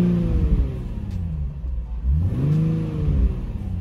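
A car's engine revs twice with the driver's door left open, each rev rising and falling in pitch, close by with a steady low rumble between them and no talking.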